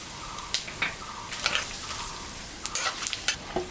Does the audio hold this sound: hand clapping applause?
no